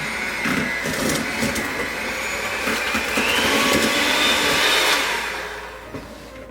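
An electric mixer whirs steadily on medium speed, beating gluten-free apple cider donut cake batter, with a continuous motor drone that swells slightly near the end before easing off.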